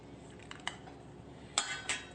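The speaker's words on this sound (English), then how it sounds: "I'm going to go ahead and pull this avocado out by tracing the bottom of the bowl." A metal spoon scrapes and clinks against a bowl while an avocado is scooped from its skin, a few short, close scraping taps with quiet gaps between.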